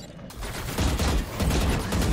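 Rapid automatic turret fire from the Valorant video game rattles in a dense, continuous burst of shots, loud and close, with no talking over it.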